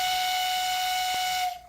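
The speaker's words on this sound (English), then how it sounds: "Sometimes they need a little encouragement, and this steam whistle." A steam whistle blows at a museum of working steam engines, a single loud, sustained, shrill tone with airy hiss that holds steady for well over a second before cutting off.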